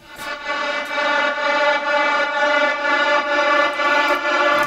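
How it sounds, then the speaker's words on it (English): A dense atmospheric synth texture from Dennis Coy's Splice sample library, a sustained harmonic drone with a soft swelling pulse, played alone and fairly loud throughout. "The first one is this texture sound"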